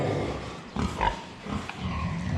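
Japanese Berkshire black pigs (kurobuta), boars and sows, grunt and snort in short bursts over a steady pig-farm background, close at hand, with no voices.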